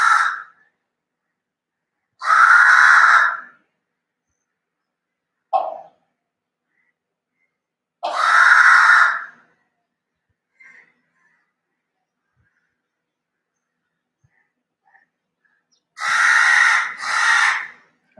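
A crow calling in the evening: loud, nearby harsh caws repeated at irregular intervals with long quiet gaps between them, ending on a quick double caw, plus a couple of faint short notes.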